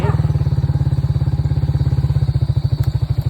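Motorcycle engine running close by, a loud, rapid and even low-pitched thumping pulse that continues steadily throughout with no talking over it.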